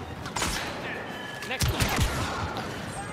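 Gunfire in a Star Wars Battlefront II multiplayer Blast mode match comes as a quick cluster of sharp shots and impacts, heard together with a voice.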